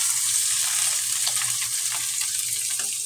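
Chicken pieces sizzling and frying in a hot pan for Filipino chicken pastel, a steady, close, loud crackle that runs unbroken the whole time with no talking.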